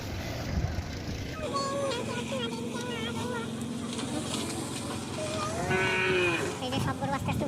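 Cattle moo and low several times while being loaded onto a truck amid a busy, noisy outdoor background, with a longer, louder call toward the end.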